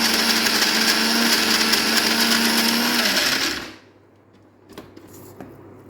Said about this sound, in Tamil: நான் அரைச்சிட்டு உங்களுக்கு காட்டுறேன்.